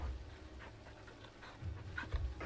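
A dog in Final Fantasy XVI pants softly in rapid, rhythmic breaths, fairly faint and close, with a slight rise in loudness near the end.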